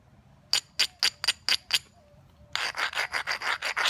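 Flint knapper scrubbing the edge of a stone spall, first six short, sharp rasping strokes, then after a pause a rapid run of longer, louder abrasive scrapes, close and alone.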